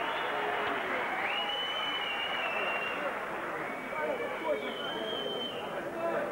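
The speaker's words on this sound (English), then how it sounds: "Harding is already proclaiming victory and getting a respectful cheer" Crowd at a 1991 boxing bout in Hammersmith, London cheering and applauding a fighter awaiting the verdict; a steady, dense roar of cheers and clapping with whistles rising over it, sustained throughout at close range.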